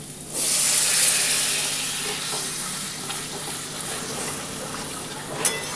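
Water poured into a hot frying pan sets off a loud, close sizzle and hissing steam that stays steady for several seconds, then eases into a softer bubbling sizzle.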